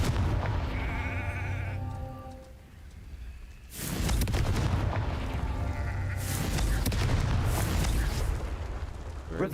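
Fire spell blasts ring out in the Hogwarts Legacy game, two loud bursts that swell and hang over a steady game backdrop with bleating tones, one at the start and another after a brief lull.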